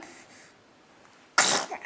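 A quiet stretch of faint background noise, then one sudden, sharp baby sneeze close by.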